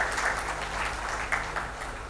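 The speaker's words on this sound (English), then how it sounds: "Let's have a big round of applause for him as well." At a healthcare innovation challenge launch event, an audience gives a guest speaker a round of applause. The steady, crowded clapping stays at an even level throughout, with a few sharper individual claps standing out near the end.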